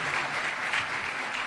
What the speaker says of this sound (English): Let's clap for him as comes.